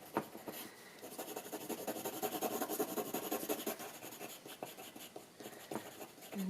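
Charcoal scribbles and scratches across textured watercolour paper in close, steady strokes. The rough rasping continues throughout with small rhythmic pulses.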